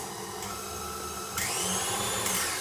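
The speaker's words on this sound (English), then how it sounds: "So I'm just gonna give this a slow mix again" An electric mixer slowly beating buttercream, a steady whirring motor hum that steps up in pitch and loudness partway through, close by with no talking.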